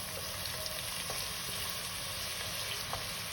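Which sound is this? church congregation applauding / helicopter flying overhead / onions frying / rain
onions frying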